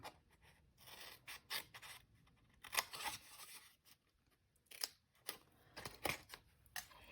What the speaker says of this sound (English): we are going to cut out that corner with our snips